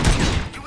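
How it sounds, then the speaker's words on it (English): Gunfire in a RoboCop video game: a short, loud volley of muffled shots with booming low end, quickly fading into a softer tail. "Gunshots? What's going on?"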